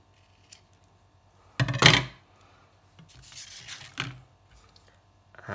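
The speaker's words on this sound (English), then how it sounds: "what I'm going to do is I'm just going to cut my tape" Scissors snip through thin red liner tape at a craft table, a single crisp cut preceded by a faint click and followed by softer rubbing and handling, close and alone.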